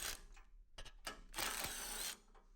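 Quick ratcheting clicks from a ratchet turning a 15 millimeter socket as it backs out the inner tow hook bolts on the front bumper of a 2021-or-later Ford Bronco, in short close bursts followed by a longer steady run.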